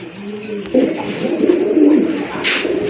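Thick-beaked pigeons at a pigeon sale give soft, repeated low coos close by, with a brief sharper chirp near the end over faint background noise.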